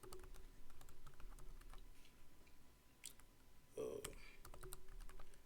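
Keyboard typing on a computer during a Python programming lesson, a steady run of close, light key clicks with a brief louder clatter partway through, while a voice talks faintly underneath.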